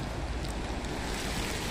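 Ocean surf on the Izu Peninsula coast: a steady, broad wash of waves and wind, moderately loud and unbroken, with no distinct individual breakers standing out.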